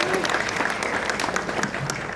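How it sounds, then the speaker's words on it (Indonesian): Applause from an audience at a PDI Perjuangan party meeting in Bangli honours Pak Artong, a continuous wash of many hands clapping, fairly loud and close throughout. "Tepuk tangan untuk Pak Artong."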